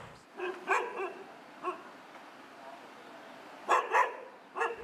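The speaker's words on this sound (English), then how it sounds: "So as I escape the hungry dog" A hungry stray dog on a Bangkok street during an evening walk barks in several short, fairly close bursts, spread unevenly over a steady outdoor background.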